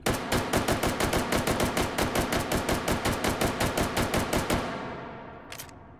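Semi-automatic rifle firing in the VR shooting game Hot Dogs, Horseshoes & Hand Grenades, a fast, regular string of about thirty sharp, loud shots that stops abruptly and leaves a fading ring with one faint click.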